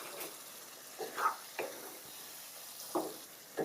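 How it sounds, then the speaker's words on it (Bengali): Chicken pieces sautéed in oil crackle with a soft, steady sizzle, broken by a few short scraping stirs of a spatula in the pan, fairly quiet and with nobody speaking. "এবার এই মাংসটাকে আবারও কষিয়ে নিচ্ছি"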